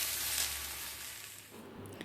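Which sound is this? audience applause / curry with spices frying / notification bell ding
curry with spices frying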